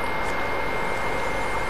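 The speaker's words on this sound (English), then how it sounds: "I hear somebody in a copter." Steady broadband engine roar with a droning hum of a helicopter passing overhead in a video game, continuous and fairly loud with no talking.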